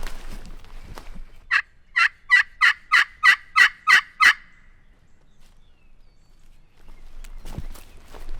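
A wild Missouri longbeard turkey gobbles once, a quick run of about eight sharp, rattling pulses at moderate distance. Quiet outdoor stillness and faint rustling surround it.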